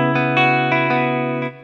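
Rickenbacker 330 sampled electric guitar through an amp simulator with a gritty processed tone, a few picked notes ringing over a sustained chord, close and loud, ending abruptly.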